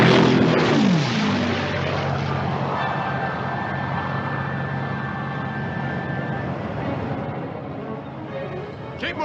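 Propeller planes roar off an aircraft carrier deck in a 1956 war film, a loud, steady droning engine wash with a short descending whine near the start, and no talking heard.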